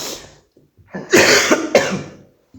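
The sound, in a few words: coughing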